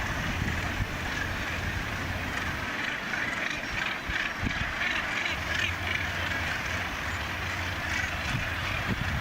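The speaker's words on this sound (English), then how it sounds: "It's unbelievable, the squawking and everything that goes on with them all down there." A busy seabird colony at Cape St. Mary's, Newfoundland, with overlapping squawks and calls over steady wind and surf noise, the birds close and constant.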